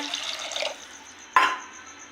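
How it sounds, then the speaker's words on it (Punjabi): A bowl of water pours into tomato soup in a pot, a short liquid splash and trickle up close followed by a sharp splash midway, then a fading dribble, with no voices. "ਇੱਥੇ ਆਪਾਂ ਇੱਕ ਕੋਲੀ ਪਾਣੀ ਪਾਵਾਂਗੇ"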